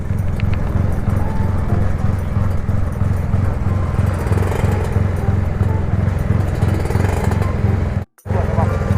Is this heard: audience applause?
no